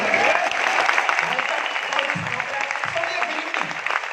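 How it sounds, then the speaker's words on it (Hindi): Applause from an audience at a leadership speech event, steady clapping throughout with voices talking underneath and brief vocal bursts. "तो तालियां देना जरूर चाहिए"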